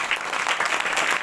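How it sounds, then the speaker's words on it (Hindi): A room of students and teachers at a tuition and computer centre applauds a student with steady, dense clapping, a short unbroken burst close by, with no speech. "जोरदार ताली।"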